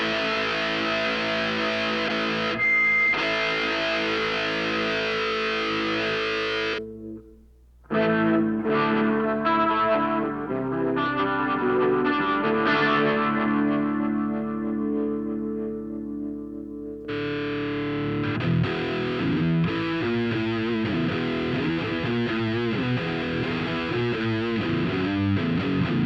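Electric guitar through a Mooer GE300 on its Mark III distortion preset, with saturated chords and riffs running steadily, a brief drop out near eight seconds, then heavier chugging chords and ringing notes, loud and upfront.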